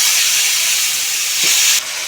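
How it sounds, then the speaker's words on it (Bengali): Whole spices, a bay leaf and a tomato, ginger and onion paste fry in hot oil with a steady, loud hiss and sizzle that drops a little near the end, no talking. "এবার ওই একই তেলের মধ্যে দিয়ে দেব ফোড়ন, গোটা গরম মশলা, দারচিনি, এলাচ, লবঙ্গ, আর দিয়ে দিচ্ছি একটা তেজপাতা"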